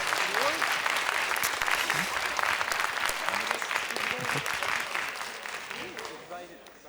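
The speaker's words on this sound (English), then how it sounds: "Give him a warm applause!" A warm round of audience applause for a student speaker at a youth science seminar, dense and steady, with voices murmuring underneath, holding strong for several seconds before gradually fading out.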